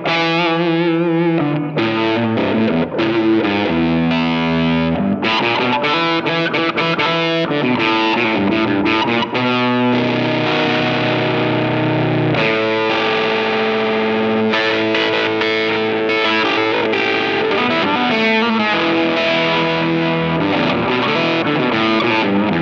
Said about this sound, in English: Fuzz on the red channel. So it has maximum input biases set there, and we are on silicon transistors.